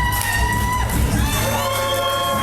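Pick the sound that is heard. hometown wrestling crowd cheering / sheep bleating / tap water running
hometown wrestling crowd cheering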